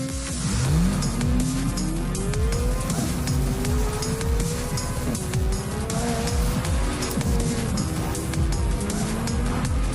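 A 2022 Chevrolet Corvette C8 Z06, a naturally aspirated mid-engine sports car, revs loud and close throughout, its pitch sweeping up and down in repeated rising pulls with a steady roar.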